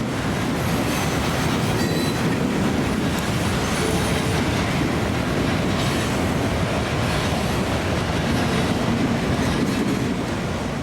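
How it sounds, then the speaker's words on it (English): Union Pacific freight trains roll past near Kansas City with a continuous heavy rumble, faint wheel clatter and occasional thin squeals, steady and loud from start to finish, with no voices. "While these three trains were passing"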